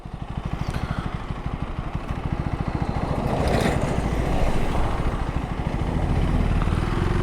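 Husqvarna Svartpilen 401 single-cylinder engine running, a loud close throbbing pulse that holds steady, then rises in revs and swells partway through and stays strong to the end, with no voices.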